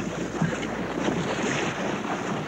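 A small boat brought in stern-first through surging coastal surf, with steady broadband rush of waves and water against wind buffeting on the microphone, continuous and fairly loud for the whole stretch.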